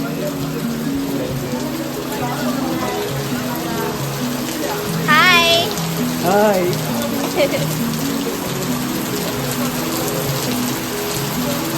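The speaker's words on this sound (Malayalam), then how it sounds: "മഴയായിപ്പോയി." Rain falls steadily at night in a continuous pattering wash, with a voice calling out a couple of short exclamations over it.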